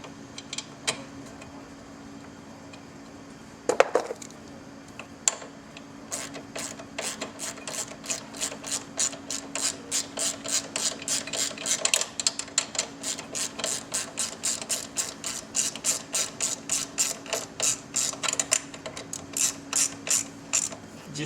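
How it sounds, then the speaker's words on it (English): Ratchet snugging the battery hold-down bolt on a Victory Vision motorcycle, a long steady run of rapid clicks after a couple of knocks, close and continuous, no talking. "Just snug your bolt up."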